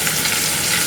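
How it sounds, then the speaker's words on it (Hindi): Green chilies sizzling and frying in hot oil with potatoes in a pan for sabudana khichdi, a steady, close, bright crackle running the whole second with no talk over it. "अब मिर्ची डालो।"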